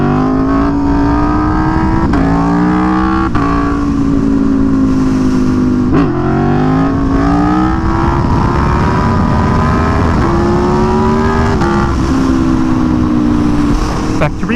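Motorcycle engine in a virtual reality video game revving and shifting through gears while doing wheelies, a loud continuous whine rising and dropping repeatedly.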